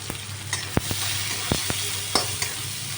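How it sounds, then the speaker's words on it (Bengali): Onion fries in hot oil with salt and turmeric, giving a constant close sizzle broken by several sharp clicks of a spatula stirring against the pan. "পেঁয়াজটা লবণ হলুদ দিয়েছি, ভাজা হচ্ছে"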